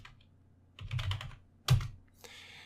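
Typing on a computer keyboard at a Kali Linux terminal: two quick bursts of several clicky keystrokes, then a lighter final flurry, close and clear against a quiet background.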